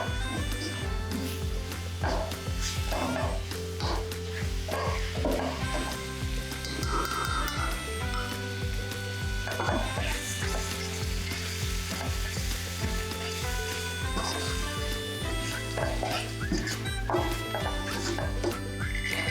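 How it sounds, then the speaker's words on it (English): Spices and vegetables roasting and sizzling in a pan: a continuous frying hiss runs throughout with scattered clinks and stirring scrapes, close and steady. "Roast until the unique aroma of spices and vegetables rises."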